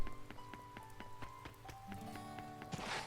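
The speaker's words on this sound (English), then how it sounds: "It's raining." Rain falls in the video game Shining Resonance Refrain, a steady pattering mixed with game music and soft rhythmic tapping, no talking.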